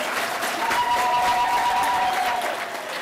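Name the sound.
audience applause at a convention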